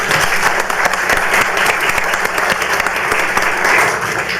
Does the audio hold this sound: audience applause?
yes